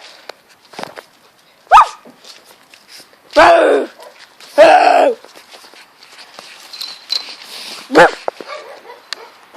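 A person imitates a dog barking with four short, loud bursts of gruff woofing, close by and spaced unevenly, with faint background noise between them.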